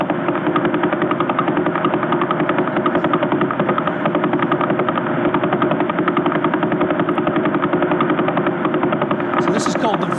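The Vela pulsar's radio signal converted into sound, a loud, rapid, even buzz of pulses repeating steadily like a fast engine throb, continuous throughout.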